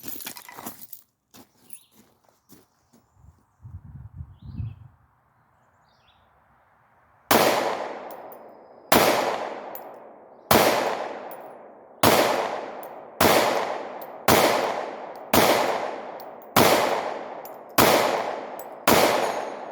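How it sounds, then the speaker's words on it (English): A Glock 43 subcompact 9mm pistol with an extended magazine fires about ten sharp, loud shots at a target outdoors, spaced roughly a second apart after a quiet lead-in with faint handling noises. "I'm going to start off with the Glock 43 first."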